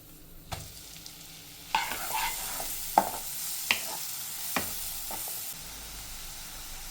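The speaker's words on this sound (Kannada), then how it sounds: "ಒಂದು ಸ್ವಲ್ಪ ಬೆಣ್ಣೆ, ಆನಿಯನ್ಸ್ ಹಾಕ್ಕೊತಾ ಇದ್ದೀನಿ." Onions sizzle as they fry in butter with a spoonful of oil for pav bhaji, a steady hiss broken by several sharp clicks and scrapes of a spoon against the pan.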